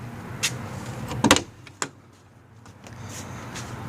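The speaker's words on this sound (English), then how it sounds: "Open up the back doors here." The back doors of a 1994 Chevy Astro van fitted with a wheelchair lift are opened, with a few sharp latch clunks and mechanical knocks, close and fairly loud over a steady background hum.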